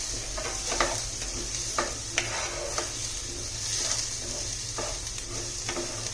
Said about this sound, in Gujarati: સૂકી કશું નાખ્યા વિના આપણે એને શેકી લેશું.